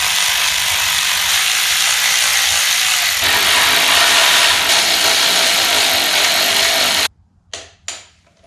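Ratchet wrench reinstalling the brake calipers on a Kawasaki ZX6R motorcycle, a loud continuous rapid clicking that runs for about seven seconds, then two short separate bursts of ratcheting after it stops.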